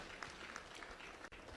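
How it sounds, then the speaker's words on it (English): An audience claps in a public hearing hall, a steady, dense round of applause that stays fairly faint and distant, with a brief dip near the end. "Colleagues and everybody in the hall, just give yourself a round of applause"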